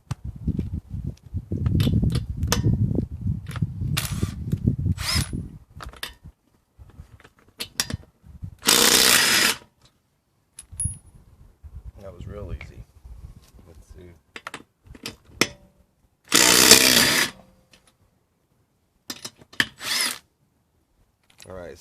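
Cordless impact driver removing car lug nuts with high-impact sockets: a few loud rattling hammering bursts stand out among clicks and handling clatter, with a voice talking early on.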